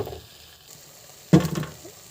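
Ginger, garlic and green chili paste hitting a hot pan with onion and tomato for a chicken curry, a faint low hiss that swells into a short, sharper sizzle as the paste goes in.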